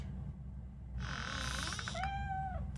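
A cat in the RoboCop: Rogue City video game lets out a short, close meow that rises and then bends downward in a drawn tone, over a low game background hum, with no speech.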